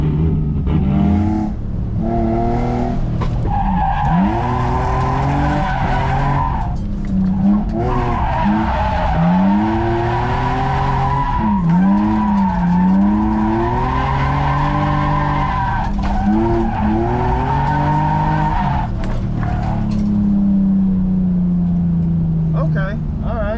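Cars drift around a track, their tires screeching in long, loud skids over sustained engine revving and accelerating that rise and fall throughout, with people talking over the noise.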